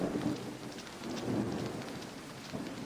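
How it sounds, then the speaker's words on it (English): Thunder from a lightning strike in Tom Clancy's Ghost Recon 2 rolls in low, heavy rumbles, swelling twice over a constant hiss of rain. "That tree just got struck by lightning."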